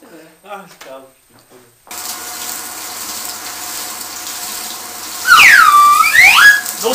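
Water gushes and splashes steadily after a brief spoken exchange, with a sharp, louder swirl of splashing near the end.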